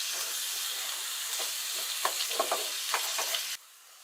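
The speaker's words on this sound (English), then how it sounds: "We're going to saute the carrots and the beef." Carrots and beef sautéing in sesame oil give a dense, steady close sizzle, with a few light stirring taps near the end before the hiss suddenly drops away.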